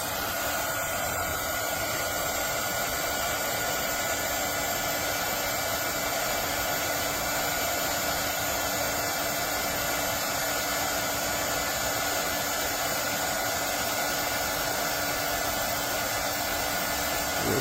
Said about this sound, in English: Again, we're going to heat shrink it.